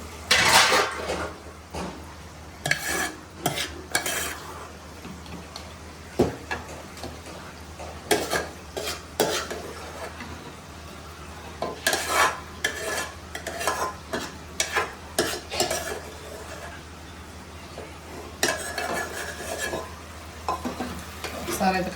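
A spoon stirs a prawn, egg and gongura curry in a pan. Repeated metal scrapes and clinks ring against the cookware over a steady sizzle, close by, in uneven bursts for about twenty seconds.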